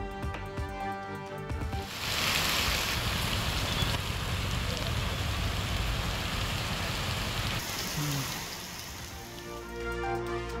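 Heavy rain pours steadily in the Ramanathapuram district during a thunderstorm, a loud dense hiss of falling water that swells after a couple of seconds and holds for most of the stretch. No distinct thunder crack stands out.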